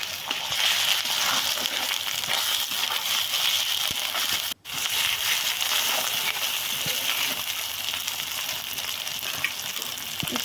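Chicken curry masala with chopped green chilli sautés in a pan, a steady wet sizzle and scraping crackle running evenly, broken by one brief dropout near the middle.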